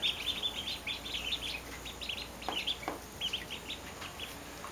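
Ducklings in their new home give rapid, high peeping chirps in bursts, close and lively, with faint background hiss and no talking.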